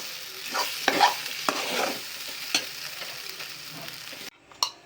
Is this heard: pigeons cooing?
no